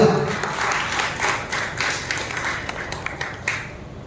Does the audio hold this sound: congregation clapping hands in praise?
yes